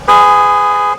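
A single car horn blares loud and close for about a second, one sustained steady tone that cuts off cleanly.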